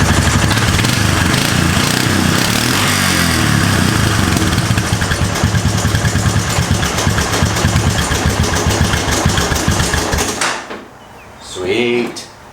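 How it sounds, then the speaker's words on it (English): A 1996 Honda 4x4 ATV engine idles loud and close in a steady, throbbing run for about ten seconds before cutting out, leaving only faint, quiet sounds. "Gotta up the idle just a tiny bit."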